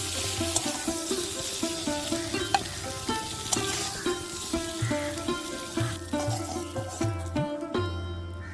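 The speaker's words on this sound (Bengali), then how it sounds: "দেড় দু মিনিট একটু জাস্ট ভেজে নিয়ে তারপরে তুলে নেব পনিরগুলো" Paneer cubes frying in hot oil in a pan, a steady close sizzle with rhythmic stirring scrapes repeating throughout.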